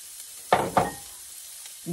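Chopped red onion dropped into a pan with browned lean ground turkey, two quick sizzling bursts over a faint background hiss, then a brief soft sound near the end.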